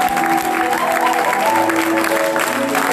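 A church congregation claps and cheers during a worship service, a loud, dense wash of applause from many people filling the room, with voices mixed into the crowd noise.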